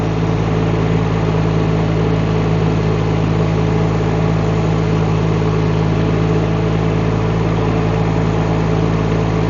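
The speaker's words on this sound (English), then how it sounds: "More throttle. We're at 1900 RPMs right now." A Rippa R18 mini excavator's engine runs at a steady 1900 RPM, a loud, even, close drone with a constant low hum and no variation in pitch.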